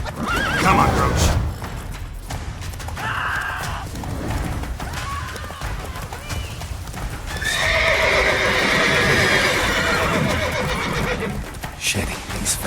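Roach, the horse from The Witcher 3, pounds along at a gallop with continuous hoofbeats, neighing loudly at the start and again in a long whinny midway, over game ambience and some talk.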